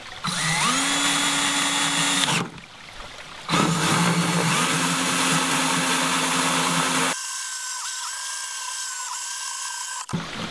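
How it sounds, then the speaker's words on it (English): A power drill bores slowly through a plastic bucket near the top rim, its motor whining in steady bursts with a short pause in the middle and a higher, thinner tone near the end, close and loud, with no talk. "carefully, slowly, drill this hole in."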